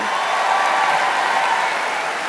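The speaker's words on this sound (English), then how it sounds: "give a round of applause" An audience applauds the evening's special guest, San Francisco Mayor Daniel Lurie, at a live tech-business talk event: a continuous, even wash of many hands clapping, moderately loud and sustained throughout.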